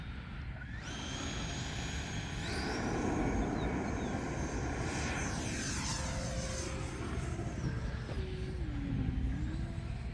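E-flite 90mm Viper RC jet with electric ducted fan taking off with one click of flaps, a sustained loud whooshing whine that shifts in pitch as the jet passes and pulls away.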